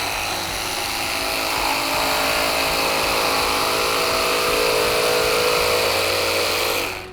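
A battery jigsaw runs continuously at full speed, loud and close, with a steady buzzing whine for about seven seconds before it cuts off, with no talk.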